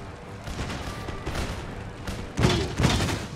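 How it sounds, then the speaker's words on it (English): Cannon fire in the video game Empire Total War during a battle: muffled booms and rumbling blasts over dense battlefield noise, with two stronger thumps near the end, at mid distance. "Fire the cannon."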